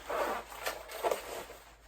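A large zipper on a motorcycle riding suit pulled in a few quick strokes, close up, with soft scraping bursts and no voices.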